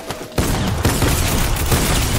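Shotgun fire from the dragon shotgun in Fortnite on a Halo Blood Gulch map, loud, dense bursts of blasts and explosions crowding one another with no pause between them.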